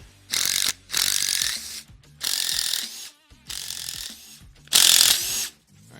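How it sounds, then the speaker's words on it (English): A hand ratchet cracks loose the Torx bolts on an LS engine camshaft, five rapid clicking bursts with short pauses between them, close and loud with no talking. "use the ratchet to get them electric to get it off"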